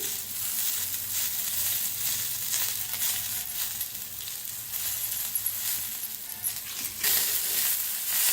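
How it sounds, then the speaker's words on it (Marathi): Cumin seeds and chillies roast in a pan with a steady dry sizzle, broken by occasional small metallic clinks and scrapes from stirring. "आणि मिक्स करून भाजून घेऊया जिऱ्याला"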